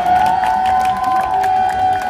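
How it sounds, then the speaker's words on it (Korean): A crowd gathered at a welcome ceremony for sixteen released university students claps and cheers continuously, with a steady tone sounding through the dense applause. "모두 나올 때까지 박수와 함성을 보내주시면 감사하겠습니다"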